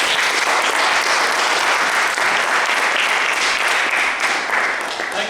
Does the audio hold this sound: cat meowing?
no